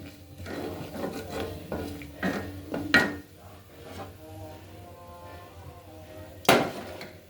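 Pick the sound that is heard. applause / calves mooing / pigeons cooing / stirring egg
stirring egg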